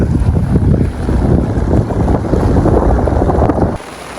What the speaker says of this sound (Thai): แดดล่มลมตกก็ลมแรง ฝนฟ้าคึ้มมาเลยครับ